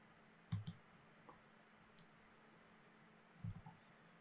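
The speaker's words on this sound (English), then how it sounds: "So if I would to add a participation, I would click on the new button." Crisp computer mouse clicks in a quiet room, three sharp isolated clicks spaced about a second and a half apart, close and clear with nothing else heard.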